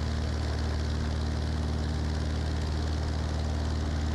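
A light airplane's propeller engine roars at full power during the takeoff run from runway 08, a loud, steady, droning hum with no letup.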